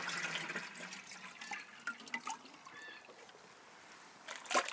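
Water pours from a sawed-off watering can in a greenhouse, a steady close splashing trickle with a few louder gushes at the start and end, no talk.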